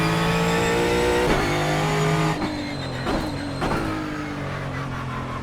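GT4 race car engine lapping the Nürburgring Nordschleife in iRacing, loud and close, revving high and then shifting down with sharp drops in pitch and brief bursts of grinding or tire noise.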